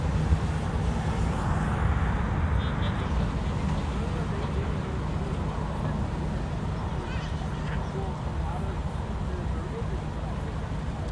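A brand-new Delta Airlines airliner, built January 2021, sits at Los Angeles International Airport with a steady, loud jet-engine roar and airport rumble throughout, a person talking over it.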